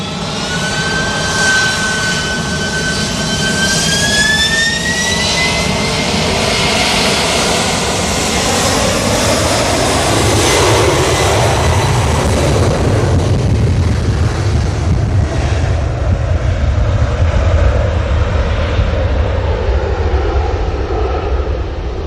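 An Atlas Air Boeing 747 roars at Manchester Airport, a loud continuous jet-engine whine that rises and sweeps in pitch early on, then becomes a broad rumble with wind buffeting the microphone throughout.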